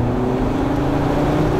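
A 2013 Volkswagen Beetle Convertible with a 177-horsepower engine accelerates, its engine giving a steady, loud droning hum that holds and rises slightly over a short stretch, heard from inside the car with no talking.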